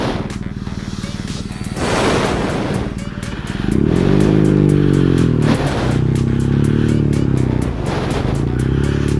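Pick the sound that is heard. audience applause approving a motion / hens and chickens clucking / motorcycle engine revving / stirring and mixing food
motorcycle engine revving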